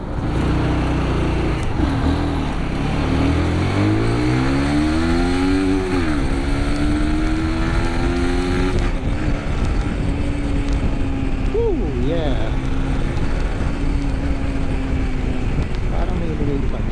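Road traffic in the Philippines, with cars and motorcycles passing close by, engines droning and rising in pitch as they accelerate and fade, a continuous loud rumble throughout.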